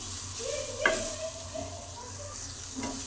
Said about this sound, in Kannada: ಬೆಳ್ಳುಳ್ಳಿನೂ ಹುರ್ಕೊತೀನಿ